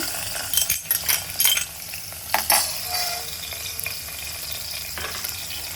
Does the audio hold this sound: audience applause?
no